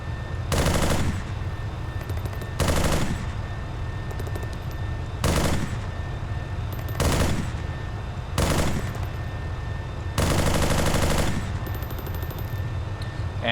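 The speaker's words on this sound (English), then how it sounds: "And it also has a 50 cal." A .50 cal machine gun firing in the ArmA 3 video game: five or six loud, close bursts of rapid fire, each about a second long, separated by pauses of roughly one to two seconds, with no talking.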